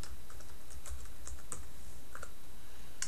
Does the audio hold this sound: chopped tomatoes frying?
no